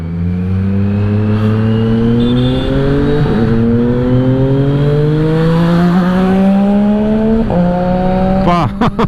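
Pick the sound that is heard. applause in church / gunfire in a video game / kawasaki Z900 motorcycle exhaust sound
kawasaki Z900 motorcycle exhaust sound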